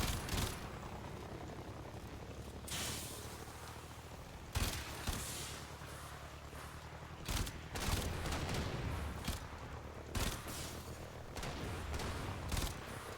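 Rapid bursts of gunfire from a weapon in the video game Warframe crack out loud and close, with sharp shots repeating irregularly across the whole stretch over a dense, rumbling game backdrop.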